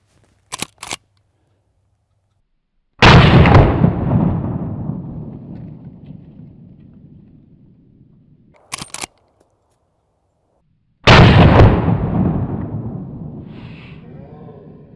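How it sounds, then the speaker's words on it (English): A Henry Big Boy Steel lever-action rifle fires 327 Federal Magnum rounds at pop cans outdoors, two loud, sharp shots several seconds apart, each with a long rolling echo, preceded by brief mechanical clicks. "I'm going to shoot both cans, and then we'll go through the ammo in the same order that I shot it today"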